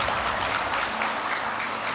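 An audience applauds the third place team at a challenge grand finale, a dense, even wash of clapping lasting a couple of seconds with no voices over it.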